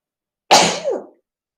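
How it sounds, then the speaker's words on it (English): A single sharp sneeze, with an abrupt loud burst followed by a short falling tail, alone against silence. "I have to sneeze."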